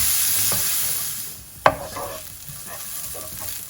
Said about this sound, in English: Next goes in 1 onion which I've finely chopped. Cook this for a few minutes until golden.